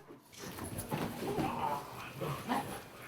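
A police working dog, selected for police service, barks and whimpers eagerly in a run of excited yips and whines, close and fairly loud, with brief pauses between vocal bursts.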